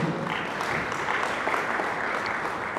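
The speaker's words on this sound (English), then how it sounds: "This is another round of applause for him." Audience applause after a British Council goodwill message, a dense, loud, steady patter of many hands clapping close by without a break.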